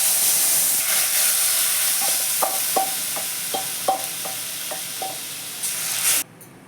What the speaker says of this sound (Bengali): এবার আমি ডালটা ঢেলে দিচ্ছি।